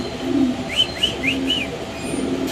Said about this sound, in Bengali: এখানে আছে এক পিয়ার মডার্ন কবুতর